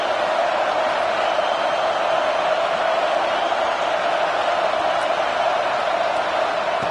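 Football stadium crowd roaring on a crucial third down, a dense, sustained wash of cheering and whooping that holds steady and loud throughout with no single voice standing out.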